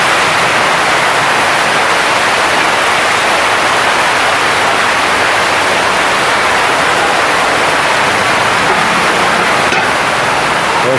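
Heavy rain pours down in Davao City as a dense, unbroken roar of broadband noise lasting the whole stretch, loud and close, with no voices.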